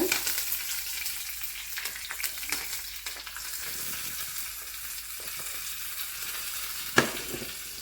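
Curry leaves tempered in hot oil for a capsicum chutney, giving a steady close crackling sizzle with scattered pops and one sharp snap near the end; no voices.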